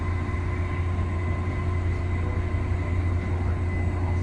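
Steady low rumble and hum of a Tokyo monorail riding from Haneda Airport, a continuous even drone with faint tonal whine, close and unbroken, with no talking.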